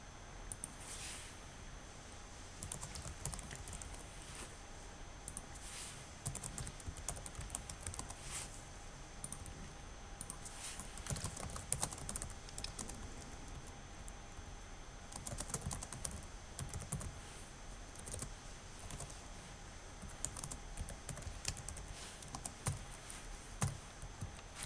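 Steady clicking of a computer keyboard as a blog message is typed, continuous irregular keystrokes at close range with no one talking over them.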